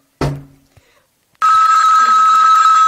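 A telephone bell rings loudly and continuously in a radio play, starting abruptly after a short thump and a moment of quiet, with a bright sustained electric ring.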